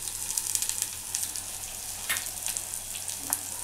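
Ingredients fry in a pan for Telangana-style pulla gandha pulusu, giving a faint, steady sizzle with soft crackles and a few brief spits, heard close with no talking.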